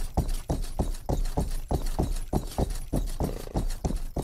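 Video game horse hooves clip-clop in a quick, steady rhythm, each hoofbeat crisp and close, with no talking.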